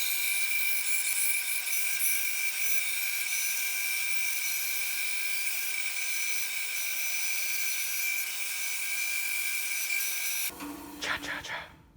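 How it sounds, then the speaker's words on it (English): A power sander grinds down a homemade wooden baby rattle in a steady, loud, high-pitched whine for about ten seconds, then cuts off, leaving a few light clattering handling sounds. "I'll thin it up more on the sander"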